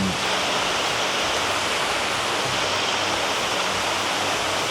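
Water pours steadily down into a koi pond at a carp farm, a continuous rushing splash like a small waterfall, close and even throughout with no talking.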